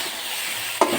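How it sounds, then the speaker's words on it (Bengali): Brinjal pieces with salt and turmeric being stirred in a pan, giving a soft steady sizzle with a brief scrape of the spatula near the end. "ভালো করে নাড়িয়ে দিয়েছি নুন হলুদ দিয়ে"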